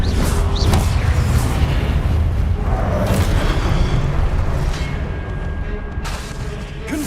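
Fiery Confringo spell blasts in the video game Hogwarts Legacy roll out as continuous booming rumbles and crashing bursts, loud and close, easing slightly toward the end.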